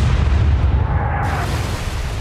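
Naval gunfire from a warship in the game Atlantic Fleet: a steady, loud rumbling boom with a low, sustained roar that carries on without a break.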